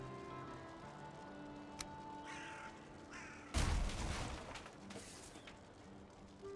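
A crow caws sharply in the game Valheim, standing out over a soft ambient hum, followed by a sudden loud crash-like burst partway through and then a quieter, fading background.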